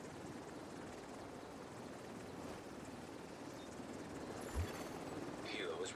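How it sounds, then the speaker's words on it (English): A helicopter in The Division 2 returns to base, its rotor chop a steady low rumble beneath game effects and a voice, growing slightly louder toward the end. "Helo is returning to base."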